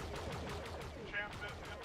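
Rapid blaster fire rattles in a Star Wars Battlefront starfighter battle as an enemy ship is shot down, a steady dense barrage of shots over continuous engine roar and game noise.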